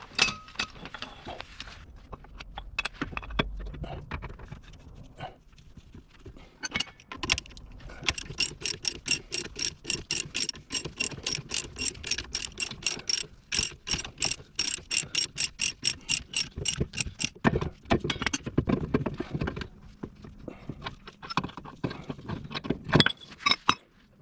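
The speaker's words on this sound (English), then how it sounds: "I'm gonna go ahead and push the bushing out" A front lower control arm bushing on a Toyota Supra MK3 is pushed out with hand tools, heard as a long run of rapid, rhythmic ratchet clicks, close and fairly loud, with a few metallic clinks and pauses between bursts.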